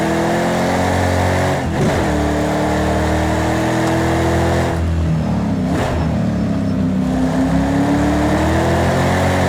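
A Ford Mustang in a racing video game drifts with its engine revving loudly and continuously, the pitch rising and falling with brief dips at gear changes and slides.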